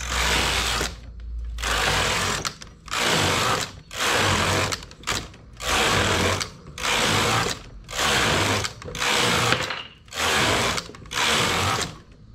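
A knitting machine's carriage runs back and forth across the bed knitting a 16-row band, giving repeated loud mechanical whirring passes about a second long, separated by short pauses, with no talking.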